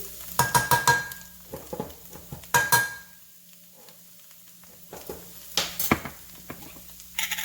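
Pickled sour bamboo shoots being sautéed in a pan: scattered scraping stir strokes and clinks of a utensil against the pan over a soft sizzle, with quieter gaps in between.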